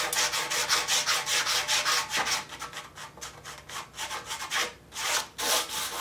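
A blade rubbed back and forth over the seams of metal parts during a 1955 Farmall Cub tractor restoration, making loud, close, rhythmic rasping strokes in rapid succession with no talking.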